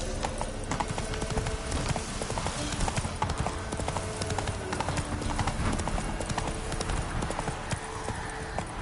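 Roach the horse gallops hard in The Witcher 3, a steady rapid clip-clop of hooves running throughout, loud and close over a busy game soundscape of music and ambience.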